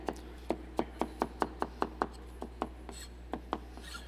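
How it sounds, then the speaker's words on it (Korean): Steady knife chops on a cutting board during a cooking show, about a dozen crisp strikes at an even rhythm, then a few slower, softer chops, close up against a low hum. "칼질하는 게 보이시나요?"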